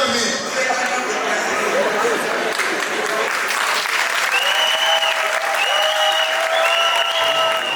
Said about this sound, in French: Est-ce qu'on peut applaudir aussi pour papa?